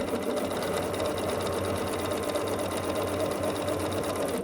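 A sewing machine chain piecing quilt blocks runs continuously at steady speed, a close, even mechanical whirr and rapid needle clatter with no pauses.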